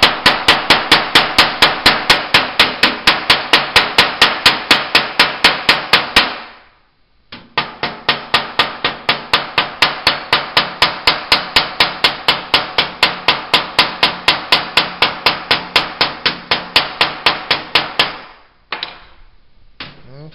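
Steady hammer blows peen homemade rivets over on a copper mash pot, a rapid metallic ringing rhythm of sharp strikes that pauses briefly near the middle, then resumes before stopping and giving a few last taps.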